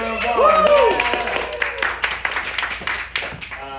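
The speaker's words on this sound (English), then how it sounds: "Give yourselves a round of applause." A small group claps together, scattered hands building into brief applause, with a voice and a sliding tone at the start.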